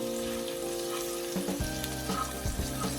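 Garlic and red onion frying in a pan, a soft steady sizzle that grows busier midway with a few clinks and stirring scrapes.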